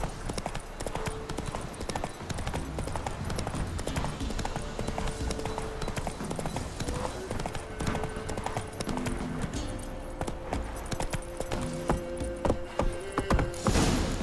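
Roach the horse trotting in The Witcher 3, with steady rhythmic clip-clop hooves and mechanical rattle of tack, close and continuous, joined late by a few sustained musical tones.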